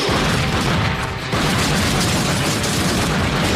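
Loud, dense bursts of gunfire and booming blasts fill a police shootout scene in the film The Crow (1994) continuously, with heavy low rumble and no pause in the chaotic action.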